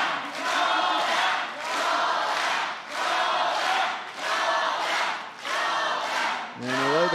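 Arena crowd at a New Japan Pro-Wrestling title match cheering loudly in rising and falling waves of roaring voices, sustained throughout with a brief shout near the end.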